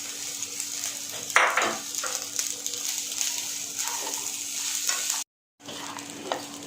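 Cooked rice with curry leaves stirred in a frying pan over low heat, soft scraping and shuffling strokes with a faint sizzle, a brief gap of silence near the end.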